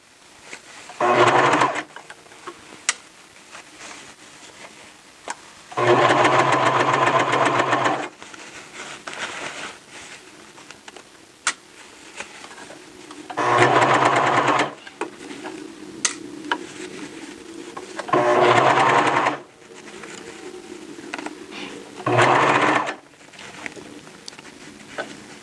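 A serger stitches a T-shirt in five bursts of rapid mechanical whirring, each lasting a second or two. Quieter handling noises and soft fabric rustles fill the gaps between bursts.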